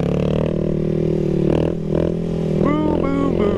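A Triumph Daytona motorcycle on a dark, slippery road revs hard as the rider pulls a wheelie, its loud, close engine drone rising and wavering for a few seconds, with the rider's voice briefly audible over it.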